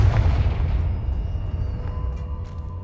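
Confringo fire-blast explosion in Hogwarts Legacy, a deep booming detonation with a long rumbling tail that fades slowly, loud and close with no talk.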